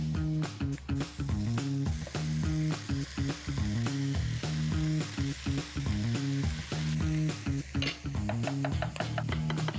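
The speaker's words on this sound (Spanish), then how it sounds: "Le damos una vuelta al bacon y ponemos los champiñones." Bacon lardons and mushrooms fry in a pot, giving a steady close sizzle with crackles throughout, over low background music.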